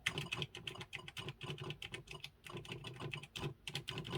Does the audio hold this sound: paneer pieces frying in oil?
no